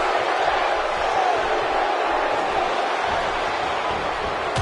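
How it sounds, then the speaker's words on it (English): Wrestling arena crowd in a PS4 wrestling game, a constant loud roar of cheering and shouting that stays even throughout, with no clear speech over it. "Looking to play off the crowd is Bubba Ray."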